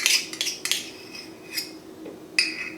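A spoon scrapes chocolate chip cookie ingredients into a mixing bowl at close range, a few quick metallic scrapes and clinks spaced across a quiet room.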